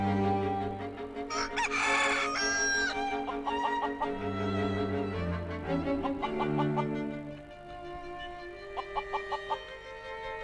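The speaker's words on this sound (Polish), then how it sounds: "To jest kogut." A rooster crows loudly up close, then clucks in quick repeated bursts, with more short clucks near the end over a steady musical background.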